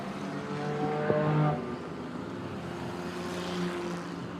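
Speedway race cars at Ashburton speedway roar around turns 3 and 4 with a steady, distant engine drone that swells briefly and then fades into a continuous background rumble, with no talk.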